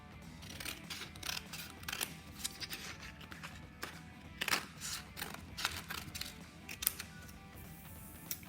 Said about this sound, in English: I'm going to cut that out